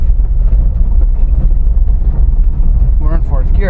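A two-door Jeep Wrangler JK with an LS3 engine grinds along a trail in fourth gear, a deep, steady engine rumble with wind noise, and a voice speaking briefly at the end.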